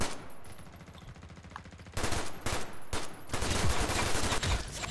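Gunfire from the online shooter game Ghost in the Shell: Stand Alone Complex - First Assault, with rapid automatic bursts and repeated shots that grow denser and louder in the second half, with no talk over it.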